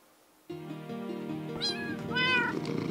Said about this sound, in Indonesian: Oh, kucing gue juga ngikut guys.